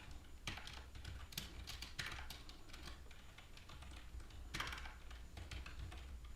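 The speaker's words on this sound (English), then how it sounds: "if I could type" Rapid clicking keystrokes on a computer keyboard come in uneven bursts with brief pauses, close and fairly quiet, with no voices.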